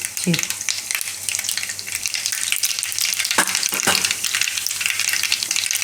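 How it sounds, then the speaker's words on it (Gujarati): Whole mustard seeds frying in hot oil for Gujarati muthiya made with kalimali greens, a steady close sizzle with a few sharp pops and crackles throughout, no voices. "તેલ આપણું ગરમ થઈ જશે એમાં આપણે નાખશું રાઈ થોડુંક આખું"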